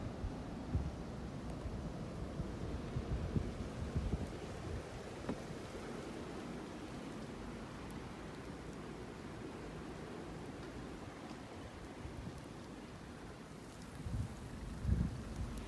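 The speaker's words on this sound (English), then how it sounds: "Here comes the wind." Wind roars steadily through a snowy blizzard, a dense continuous rush with a stronger gust swelling near the end.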